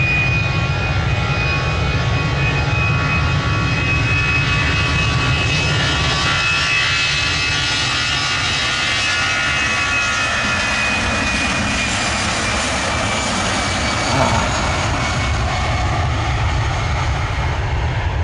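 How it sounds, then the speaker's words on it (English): Aircraft flying overhead, a loud steady engine roar that drones evenly throughout with a faint whining tone above it and no talk. "Watching a few aircraft."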